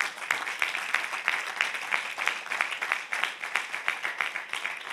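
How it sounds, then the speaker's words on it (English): A church congregation at a sermon claps hands in praise, a dense, steady burst of many hands clapping together at a fairly close, moderate level. "Clap your hand and give God a praise for that."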